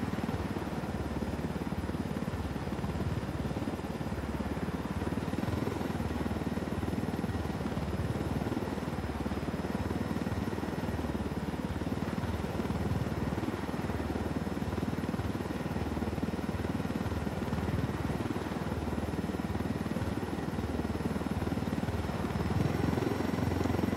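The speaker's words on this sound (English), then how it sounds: "Enemy helicopter ahead." Enemy helicopter in the video game Ghost Recon Wildlands, a steady loud rotor and engine drone that holds unbroken throughout, with a low thumping rumble and no talk.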